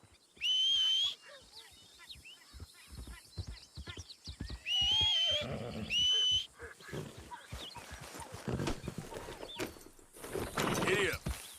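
Horses in Red Dead Redemption 2 whinny several times in sharp bursts over clip-clopping hooves and shuffling movement, with a voice speaking at points.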